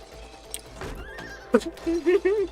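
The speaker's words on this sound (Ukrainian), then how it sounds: "это конь, это не корова" A horse in the video game It Takes Two whinnies in a few rising, nasal bursts, with hoof clip-clops and brief voice murmurs earlier.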